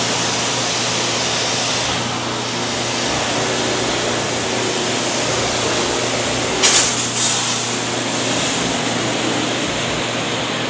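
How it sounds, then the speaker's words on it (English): Continuous hissing water spray from a pressure washer or hose rinsing a ceramic-coated vehicle, loud and steady throughout with a brief sharper burst partway through. "spray his vehicle"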